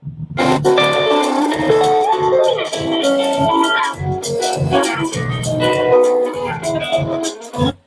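Music blares loudly through a 4.1 home theater speaker, a full, continuous mix of melody and beats played back at close range with no one talking over it.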